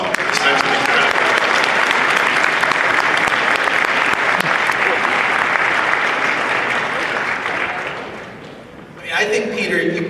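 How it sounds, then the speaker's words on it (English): Sustained applause from a convention panel audience for one of its members, dense and steady for about eight seconds before tapering off, followed briefly by a voice. "you all should give her a round of applause"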